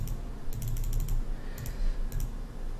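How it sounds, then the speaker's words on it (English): Clicking on a computer mouse while a Windows 98 SE setup runs: loud bursts of several quick sharp clicks in small clusters over a faint background hum. "If my clicking is too loud on my mouse, then I do apologize."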